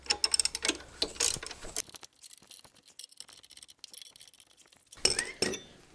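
Metallic ratcheting and clinking of a wrench tightening bolts during a bicycle chain replacement, bursts of quick clicks at the start and end with quieter tinkering between.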